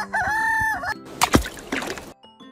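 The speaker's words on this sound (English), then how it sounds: "Cock." A rooster gives a loud, close cock-a-doodle-doo crow, followed by a short burst of rustling noise and then fading quiet.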